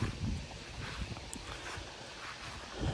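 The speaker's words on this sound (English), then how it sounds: "Getting windy now too." Wind gusts steadily outdoors, a broad rushing noise buffeting the microphone, loud and continuous throughout with no talking.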